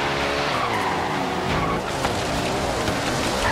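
Cars drifting in tandem in Forza Horizon 3 at a street and stance car meet, with steady loud tire skidding and engine roar running continuously throughout.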